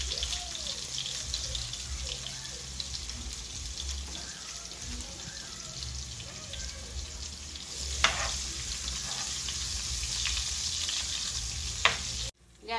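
Garlic and butter fry in a pan for a pork buffalo sauce, a steady close sizzle running throughout with occasional stirring scrapes and a brief clatter near the end.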